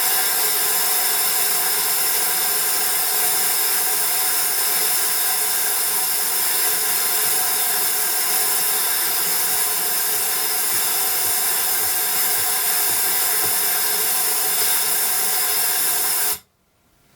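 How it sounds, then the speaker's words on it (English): A Parkside air sandblast gun fires grit inside a mini blast cabinet, making a loud, continuous broadband hiss that holds steady for about sixteen seconds before cutting off abruptly. "Airline's connected. There's grit in the blaster."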